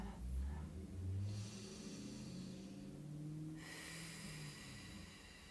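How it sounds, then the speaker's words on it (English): Slow, deep breaths taken during a floor stretch sound close and airy, with long inhales and exhales heard alone, joined by a faint low rumble. "I'm going to take about 3 breaths to just relax more into that on every breath."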